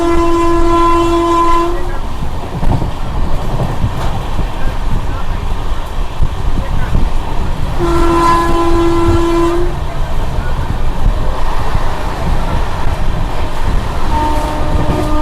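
Passenger train running at about 105 km/h through Beldanga station without stopping, with a loud close horn blaring twice over continuous rumbling wheel and rail noise.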